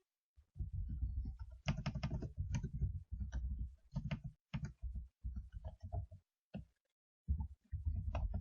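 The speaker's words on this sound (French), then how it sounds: "Puis on tape l'adresse du lien" Rapid clicking of a computer keyboard as a web link address is typed, in quick bursts of keystrokes with brief pauses, close and clear with no talk.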